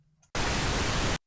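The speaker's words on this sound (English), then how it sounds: "Pink noise sounds like this" Pink noise from a DAW's built-in signal generator in Turn Pro ear-training practice, a steady broadband hiss like a waterfall that starts abruptly after a faint lead-in and runs evenly for under a second before cutting off.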